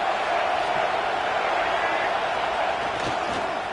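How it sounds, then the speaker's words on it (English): A stadium crowd at a football game sends up a broad, steady roar of cheering and noise, distant and diffuse, holding at an even level throughout. "This crowd bringing the energy and noise early."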